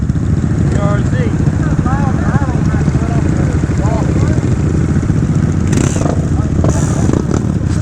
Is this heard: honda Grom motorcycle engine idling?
yes